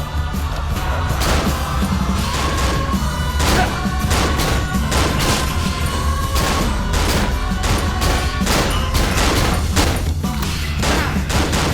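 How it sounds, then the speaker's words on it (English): Gunfire fills a shooting sequence in the video game Cry of Fear, with loud, repeated shots and impacts arriving in rapid irregular bursts over a dense, rumbling game soundscape. "Here's where the game turns into a"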